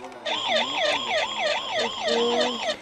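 A Transformer toy fire truck plays an electronic wailing siren that rises and falls quickly in a steady repeating cycle, close and fairly loud, with no talk over it.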